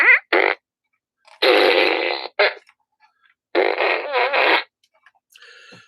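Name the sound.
fart gun sound effect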